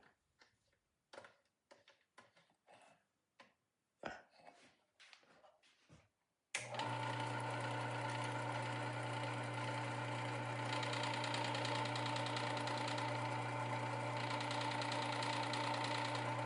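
A Work Sharp 3000 sharpener starts up after a few quiet taps and then runs steadily and fairly loud, grinding a chisel on its 1000 grit wheel, with a constant whirring hum and no talking over it.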